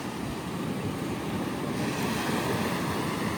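Sea waves roll in steadily along a shore where people are fishing, a continuous broad wash of surf with gusty wind noise across the microphone and no talk.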